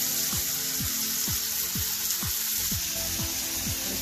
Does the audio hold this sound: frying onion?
yes